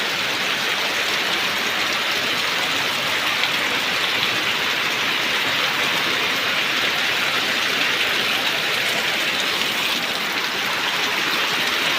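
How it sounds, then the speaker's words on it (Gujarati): Heavy overnight rain pours steadily and densely throughout in a village, a constant broadband hiss with no voices. "હા એકદમનો વરસાદ પડે છે"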